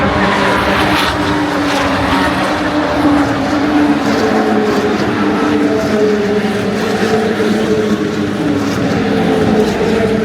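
GT race cars pulling away on track after a red-flag restart, a loud continuous roar of several engines blending together up close, without speech.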